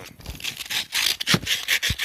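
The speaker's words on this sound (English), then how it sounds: "I'm just lightly going to be sanding this by hand." Light, repeated scratchy rubbing strokes of hand sanding with sandpaper on a cylinder head, a soft hissing rasp that rises and falls in a steady back-and-forth rhythm.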